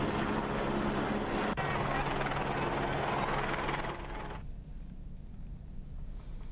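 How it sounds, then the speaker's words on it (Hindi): A helicopter passes overhead dropping flower petals onto pilgrims at the Kartik Ganga Snan fair in Muzaffarnagar, its loud, steady rotor and engine roar filling the scene before easing off to a lower rumble near the end. "हेलीकॉप्टर से फूलों की बारिश।"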